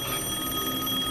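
Telephone ringing in a film scene, a faint steady electronic ring with a continuous tone and no speech, heard for about a second.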